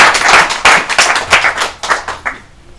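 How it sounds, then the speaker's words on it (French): Audience applause at a World Blood Donor Day celebration in Goma, North Kivu: a burst of close, loud hand clapping with uneven rhythm that thins out and fades over about three seconds. "Est-ce qu'on peut les applaudir?"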